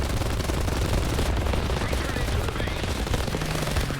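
Sustained machine-gun fire from a He-51 B-2/H biplane in War Thunder, a long, dense, loud burst running unbroken with steady rattle and engine roar beneath.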